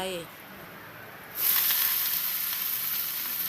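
Freshly picked choy sum greens hit a hot pan of golden fried chopped garlic, bursting into a loud, steady sizzle that holds evenly to the end after a quieter start.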